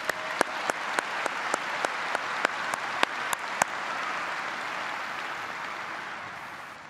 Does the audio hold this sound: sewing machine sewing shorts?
no